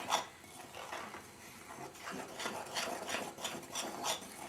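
Flour, corn flour and custard powder are mixed in a bowl, giving a soft rasping, scraping rub of spoon against bowl in irregular strokes, close and fairly quiet.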